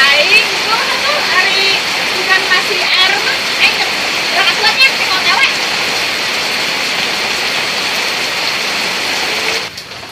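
Steady rain pours down in a dense, continuous hiss, loud and close, with faint voices underneath.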